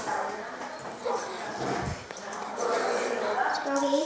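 Tame dog barking in Minecraft, a couple of short yips mixed among game sounds, with people talking over it.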